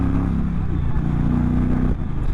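A belt-driven Indian motorcycle engine roars steadily and close, surging as it accelerates through dips and bumps with a slight clatter underneath.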